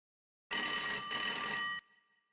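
A single electronic telephone ring, loud and close, lasting about a second before cutting off sharply with a brief fading tail.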